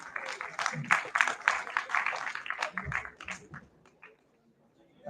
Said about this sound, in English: Applause for our students,